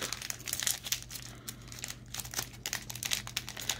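A plastic Lego Collectible Minifigures packet crinkles and crackles as it is pulled open, in irregular bursts over a low steady hum, fairly close and quiet.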